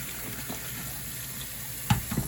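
Cool tap water runs steadily from a kitchen faucet over prickly pear fruit, a constant splashing rush with a couple of brief knocks and clatters near the end.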